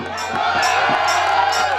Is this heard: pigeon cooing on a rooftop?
no